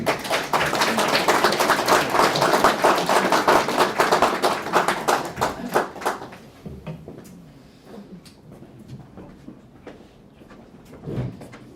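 A crowd at a book launch event claps loudly to welcome a speaker, dense applause for about six seconds that then thins into scattered individual claps and fades.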